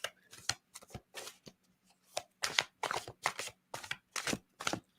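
A deck of cards being shuffled by hand at close range, a series of short crisp riffling bursts with brief pauses between them, alone and quiet.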